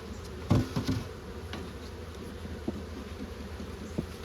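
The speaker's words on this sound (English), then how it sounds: "it looks like a lot more bees than what there usually is" Low droning buzz of many honeybees close by at a hive, with a few louder bumps and thuds early on.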